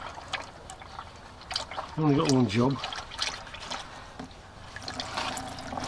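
Engine oil gurgles and trickles as it drains, with someone speaking briefly over the liquid sound.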